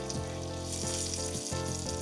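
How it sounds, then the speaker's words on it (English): Pork chop bone frying in very hot oil, a steady crackling sizzle with a low background hum, close and fairly quiet, with no voices. "The oil is so hot that on contact it will seal the bone and everything around it."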